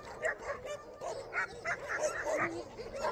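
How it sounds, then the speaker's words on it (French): Many dogs bark and yip together in Greece, a loose overlapping chorus of sharp barks and whimpers at moderate distance, with a person talking over them. "Là, il y a au moins une vingtaine de chiens."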